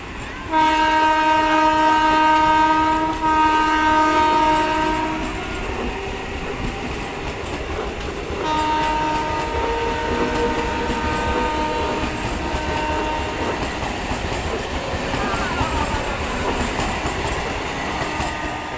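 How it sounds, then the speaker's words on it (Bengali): A train pulls into a station platform, its horn sounding in long sustained blasts near the start and again midway, over a steady rumble of rolling wagons. "ট্রেন ঢুকে গেছে, প্ল্যাটফর্মে দেখো লোকজন এসে গেছে"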